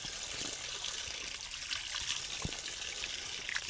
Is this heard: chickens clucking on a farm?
no